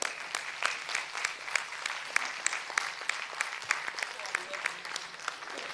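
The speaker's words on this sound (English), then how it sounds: "after listening to Dr. Ambali, I think we should clap for at least 30 seconds." Steady audience applause at a geriatrics medical lecture, many hands clapping at moderate distance in a continuous, even patter with no speech over it.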